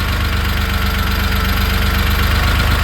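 A 1970 Porsche 911T engine idling, loud and close, with a steady, even rumble and a fast regular pulse throughout.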